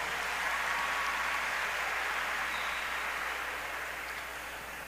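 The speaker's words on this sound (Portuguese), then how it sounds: "Vamos aplaudir a palavra do Senhor." Church congregation applauding together, a steady wash of clapping heard from within the room that fades slightly toward the end.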